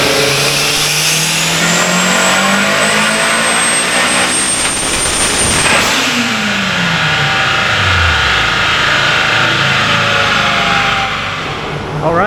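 Turbocharged Honda K20 with a stock engine and stock fuel system, running on 93 octane at about 18 psi of boost, revs hard on a chassis dyno. It gives a loud, continuous wail that climbs, drops off abruptly around midway, then builds again.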